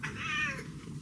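A cat meows for food at breakfast time, one close, drawn-out meow lasting about half a second, heard alone with no talk.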